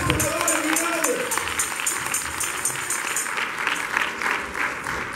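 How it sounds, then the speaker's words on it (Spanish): A church congregation applauds steadily throughout at a Sunday sermon, dense sustained clapping filling the room with a faint tonal voice or instrument underneath at the start. "Denle un aplauso al Señor"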